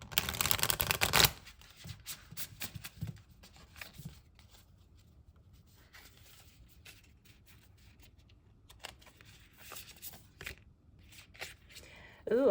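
A brief loud riffle of Moonology Oracle cards being shuffled up close, followed by quieter soft card handling and rustling with a faint low hum.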